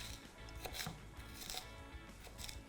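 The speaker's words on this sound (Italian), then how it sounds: "Trito il cipollotto." Knife chopping spring onion on a cutting board, a steady run of close, crisp taps spread across the whole stretch, part of preparing a soffritto for baked pasta and potatoes.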